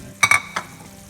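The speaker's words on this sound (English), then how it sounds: "And then I'm going to add our onions that we caramelized back into this." Caramelized onions dropped into a pan of frying liver and beer: two or three short, close sizzling clatters in quick succession, then a quiet simmer.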